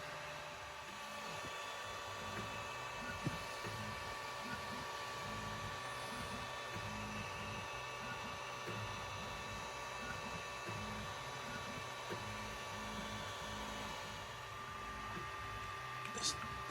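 3D printer running a frame part for a 7 1/4 inch miniature railway, a steady whirring hum with repeating stepper-motor pulses in a low rhythmic pattern, continuous and fairly quiet throughout.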